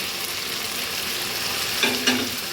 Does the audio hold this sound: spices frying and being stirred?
yes